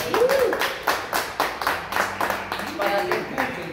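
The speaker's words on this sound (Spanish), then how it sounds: "Vamos a aplaudir nosotros mismos" A live audience at a band gig in a restaurant bar in Celaya, Guanajuato claps in short, uneven bursts, fairly close, with a voice speaking over and between the claps.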